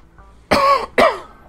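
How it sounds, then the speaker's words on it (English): Two sharp, close coughs from a man recovering from illness, spaced about half a second apart after a brief quiet moment. "I'm sorry for coughing."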